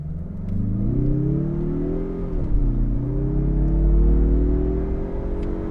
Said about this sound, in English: we're going to put this 250 horsepower and 320 pound-feet of torque turbocharged 4-cylinder to the test here